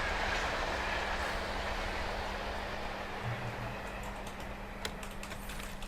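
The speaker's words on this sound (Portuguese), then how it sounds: "Ó, temos um trem passando aqui." A train rolls past in the video game Alan Wake, a steady rumbling wash with rhythmic clickety-clack and a low hum, gradually easing off.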